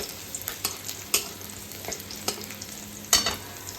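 Garlic and chillies frying in a pan give a soft, continuous sizzle, broken by occasional scrapes and clinks from stirring. The sounds are close and fairly quiet, with no speech.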